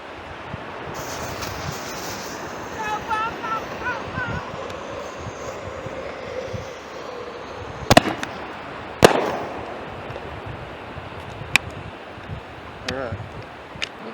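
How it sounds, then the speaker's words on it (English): Mobster Artillery Bombs firework shells from a six-shot kit go off outdoors: several sharp, moderately distant booms and cracks rise above a steady background rush, with the loudest bursts about a second apart. "This is a 6-shot kit, so get ready for some explosions."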